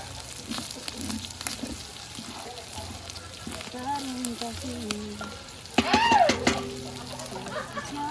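Pork sautés in a pan for pork and beans, giving a steady frying sizzle with stirring clatter, and a louder burst of hissing and scraping near the end, under occasional speech.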